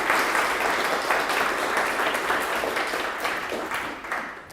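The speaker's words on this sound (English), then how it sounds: "A big round of applause, please." Audience applause at a Rust programming meetup in Zürisee, a steady, dense wash of many hands clapping that holds for several seconds and tapers slightly at the end.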